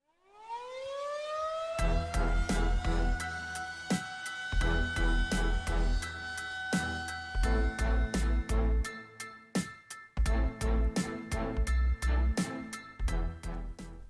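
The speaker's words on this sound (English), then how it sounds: "Pickle, hit the air raid siren sign for Monday Morning Fallout." A rising air raid siren winds up and holds a long wailing tone, joined by pounding rhythmic drum hits and musical stabs.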